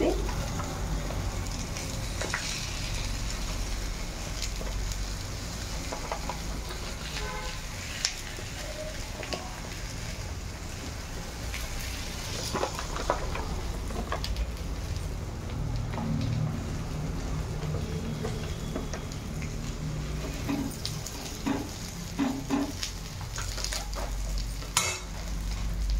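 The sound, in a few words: rice flour akki roti cooking on a hot pan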